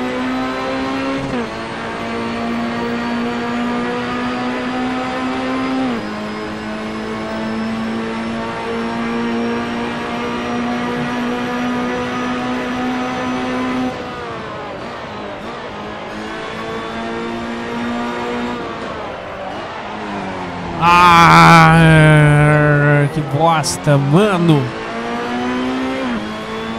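Ferrari P4/5 Competizione 2011 race car in the Assetto Corsa racing simulator, its engine droning loudly with steady harmonic tone and shifting revs, then a burst of harsh screeching and revving near the end, with someone talking over it.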